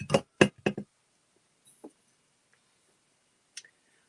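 A wine glass tumbler being handled clinks three times in quick succession, then gives a few softer, sparser taps and ticks with quiet pauses between them.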